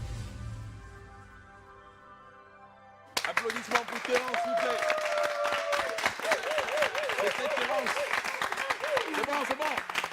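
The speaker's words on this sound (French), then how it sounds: "Applaudissements pour Terence, s'il vous plaît." A studio audience on a Gabonese TV arts show applauds for a guest after a sustained musical chord fades; the clapping bursts in and continues densely with music and voices mixed in underneath.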